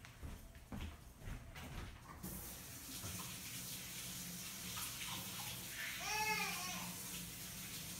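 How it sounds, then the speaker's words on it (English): Tap water runs steadily into a sink while a glue brush and gloves are rinsed, a continuous close hiss with a brief swirling splash partway through; earlier, faint background sounds precede the flow. "I'm going to go wash the brush out and my gloves off"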